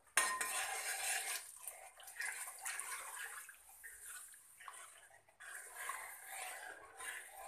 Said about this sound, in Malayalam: ഇനി നമുക്കതിലേക്ക് ആ മൂന്നാം പാല് ഒഴിച്ചു കൊടുക്കാം